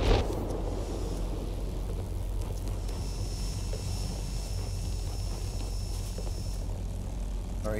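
A heavy fighter's engine drones in a World of Warplanes aerial dogfight near a P-38, a steady low propeller rumble with a thin whine rising over it partway through and no talking.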